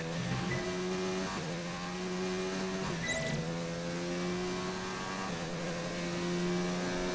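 An F2 race car in the F1 2019 video game roars steadily on the Australia circuit. The loud, high engine note climbs and drops sharply at each gear shift, with no voices.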